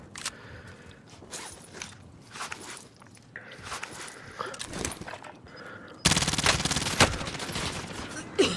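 Mac 10 submachine gun fire in the Warzone video game, with quick rattling bursts that repeat unevenly before a louder, sustained stretch of automatic fire at the end.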